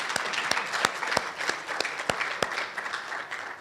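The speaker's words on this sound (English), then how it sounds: "Give yourselves a round of applause before we even start." A graduating audiology class at an oath-taking ceremony gives a round of applause, a fairly quiet wash of clapping with distinct sharp claps standing out at a steady pace.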